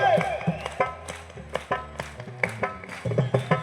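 Audience claps in rhythm along to a sung devotional song about Shiva, the sharp claps coming at a steady beat under the singing.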